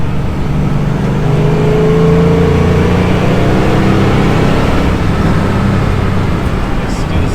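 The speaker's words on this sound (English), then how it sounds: "you start to lay on some throttle." A 1968.5 Ford Mustang GT with the R-code 428 Cobra Jet V8 pulls hard under throttle on a test drive, its loud steady engine roar rising through the gears with road noise mixed in, close and continuous.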